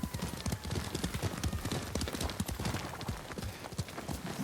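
Hooves of a galloping horse in Ghost of Tsushima pound in a fast, continuous rhythm, close and prominent throughout.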